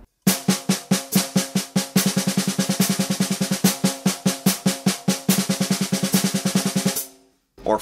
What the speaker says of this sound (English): playing 2 beats of 16th notes and 2 beats of double strokes, and that would sound like this.